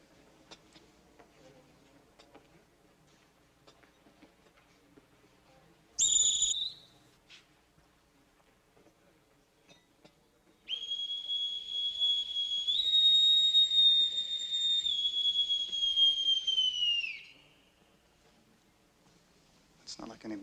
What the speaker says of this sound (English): A bosun's whistle.